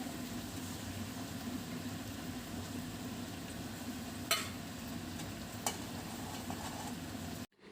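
Snake gourd stir-fry sizzles quietly in a pan after an egg is added, a faint steady frying hiss with a couple of soft knocks from stirring.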